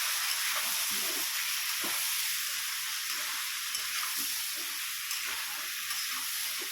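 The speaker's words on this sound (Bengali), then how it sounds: "তবে আমরা এবার হচ্ছে সবগুলো মশলা দিয়ে কষিয়ে নিই।" Spices and fish curry ingredients, with tomatoes and drumsticks, fry in hot oil as a dense, continuous hiss and sizzle. Faint stirring runs underneath and no one speaks.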